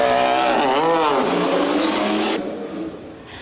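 Formula 1 cars leave the pits at Barcelona pre-season testing, with loud high-pitched engines revving and shifting up through the gears and rising and falling in pitch before cutting off to a quieter background.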